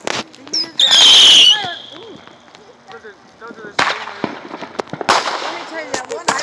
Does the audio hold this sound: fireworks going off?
yes